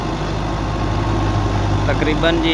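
Tractor engine idles steadily with a low rumble and vibration, a Belarus 510 driving a 2019-model wheat thresher, continuous and close while someone speaks briefly over it.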